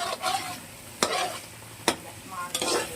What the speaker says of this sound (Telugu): పచ్చి వాసన పోయే వరకు వేయించుకుంటూనే ఉన్నాయండి. మాడుతూ ఉంటుంది, చూసుకోండి